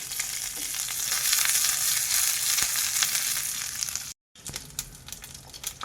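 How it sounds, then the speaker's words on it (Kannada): Loud crackling sizzle of mustard seeds, green chillies and curry leaves spluttering in hot ghee, close up, with a brief silent gap before the crackling resumes. "ಈಗ ಇದಕ್ಕೆ ಸ್ವಲ್ಪ ಸಾಸಿವೆ, ಆಮೇಲೆ ಹಸಿಮೆಣಸಿನ್ಕಾಯಿ, ಹಸಿ ಕರಿಬೇವಿನ ಸೊಪ್ಪು"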